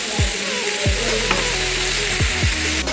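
Sliced onions sauté in oil in a pan for chicken curry, hissing in a loud, continuous sizzle with a few soft stirring scrapes and no voices.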